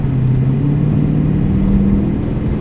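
A pickup truck's engine accelerating and shifting gears after transmission repair, a steady close mid-pitched rumble with a smooth gear change and no voices.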